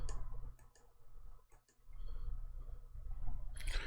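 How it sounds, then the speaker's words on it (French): Computer mouse buttons clicking in a few quick, close, crisp taps, with quiet room noise between them and a brief rustle at the end. "Alors, je clique sur le dossier pour les enregistrer."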